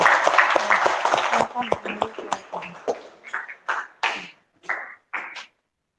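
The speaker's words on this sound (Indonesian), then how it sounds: "Tepuk tangan dulu untuk hasil diskusi." Schoolchildren in a classroom clap, a loud dense burst that thins out into scattered, separate claps and fades, with a few voices mixed in.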